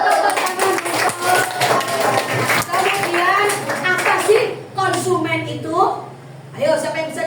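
Classroom applause, a burst of quick hand clapping from a group of children, mixed with children's voices and talk throughout.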